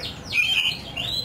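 White-rumped shamas (murai batu) at a breeding farm give a clear, loud whistled chirp that rises and falls, followed by a fainter second phrase, close and alone.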